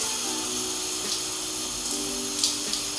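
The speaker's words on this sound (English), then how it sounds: "So I gotta go back under the shower and re-wet." Shower water runs in a steady, close hiss while hair is re-wetted, with a faint tonal hum underneath.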